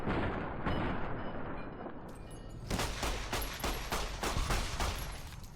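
Gunfire aimed at a Spore Carrier Savage in Fallout: New Vegas starts with a low rumble, then a rapid burst of sharp, loud shots fired in quick succession, close and dense.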